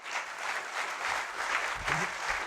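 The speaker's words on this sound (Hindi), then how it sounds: "तालियों से बताइए मुझे" A church congregation claps during a sermon, producing a soft, steady wash of applause heard from a little distance, with a faint voice briefly underneath.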